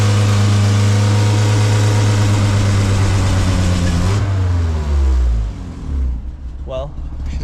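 A vintage car engine roars loudly at high revs in a sustained burnout, its harmonic pitch shifting and then dropping as the throttle eases near the end.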